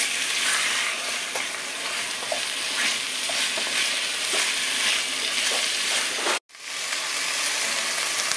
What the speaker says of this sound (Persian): گوشتمون رو اضافه میکنیم. و میذاریم کاملا با پیازمون تفت بخوره.